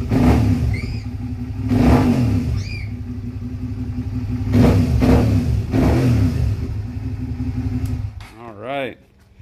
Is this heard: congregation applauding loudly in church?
no